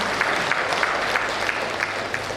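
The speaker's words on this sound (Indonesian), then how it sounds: "tepuk tangan dulu untuk kita semua" An audience at the opening of a vocational school entrepreneurship programme on Education Day claps together, a steady, fairly close round of applause with a few sharper individual claps standing out, and no speech over it.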